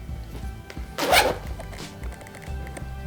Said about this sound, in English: you have 2 YKK zippers that are probably my favorite part about the outside of the bag